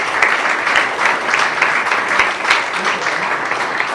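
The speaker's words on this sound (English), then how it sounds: "give them one more round of applause" Audience applause for a sports panel discussion's panelists at the close of a session, a steady, dense round of clapping held at even loudness for the whole stretch, with no talk over it.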